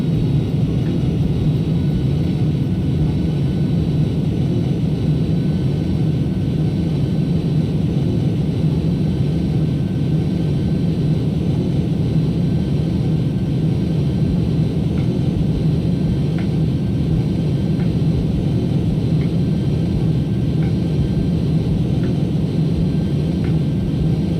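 Engines of an Airbus Beluga at maximum weight power up for climb, heard as a loud, steady, unbroken low roar and rumble that stays constant for the whole stretch, with no speech.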